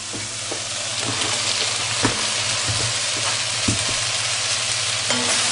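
Carrots go into a pan of frying veal, setting off a steady close sizzle broken by scraping stirs and light clatter, no voices.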